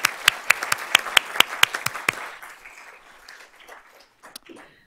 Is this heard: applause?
yes